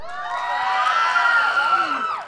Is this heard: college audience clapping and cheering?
yes